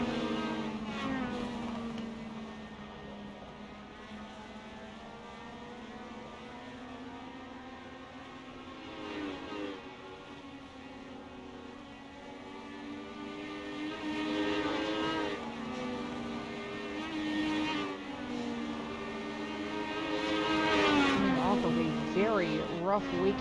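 Race cars roar past at Oswego Speedway, their engine tones rising and falling in several passes, the loudest near the end, under continuous announcer commentary.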